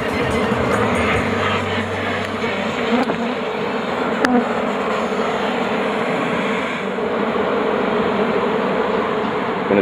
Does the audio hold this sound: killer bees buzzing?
yes